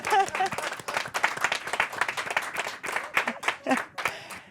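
Audience applause at a hackathon pitch event, a dense burst of clapping lasting several seconds with voices mixed in, fading out near the end.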